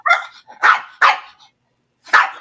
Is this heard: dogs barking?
yes